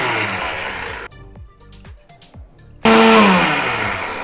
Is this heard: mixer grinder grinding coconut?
yes